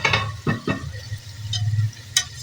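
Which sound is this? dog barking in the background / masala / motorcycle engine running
masala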